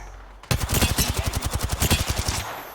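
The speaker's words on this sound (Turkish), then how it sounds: "Yanlış silahla sıktım." Rapid burst of automatic gunfire from a weapon in the Apex Legends video game, about twenty close, loud shots in a steady rhythm lasting around two seconds before cutting off.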